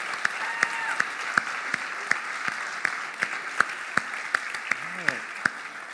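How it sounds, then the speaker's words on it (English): Audience at a business pitch challenge event applauds the five presenters, a faint, thin round of clapping with scattered sharp individual claps and brief voice fragments. "Can you get one more big round of applause for all 5 presenters?"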